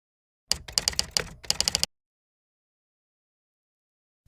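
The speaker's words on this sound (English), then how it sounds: "we use the up and down arrow keys to go through the different measurements" Computer keyboard keys are pressed in a quick burst of crisp clicks lasting just over a second, then everything falls silent.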